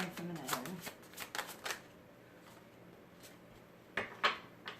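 Tarot cards being drawn and shuffled from a deck: a cluster of quick papery flicks and snaps, then a pause and two more sharp card sounds, close and soft, with no talk.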